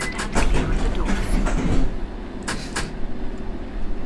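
A London Underground train pulling away from a station in a train simulator game, with a loud rumbling engine roar and rattling that eases into quieter running with a few sharp clicks.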